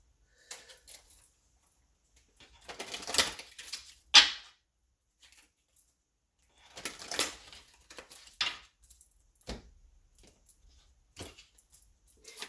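Soft papery riffles and short bursts of tarot card shuffling, coming in a few separate bouts with quiet gaps between, close and fairly faint.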